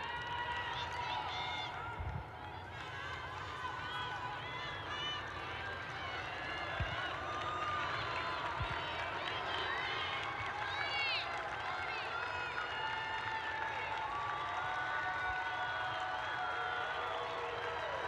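A large crowd at the 2023 NCAA Division I women's lacrosse championship quarterfinal between James Madison and Syracuse keeps up a steady, dense roar and murmur throughout, with a commentator talking over it.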